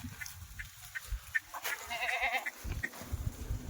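Kathiawari goats on a farm bleating at close range, several short repeated calls over low rumbling and shuffling noise, with a voice briefly talking.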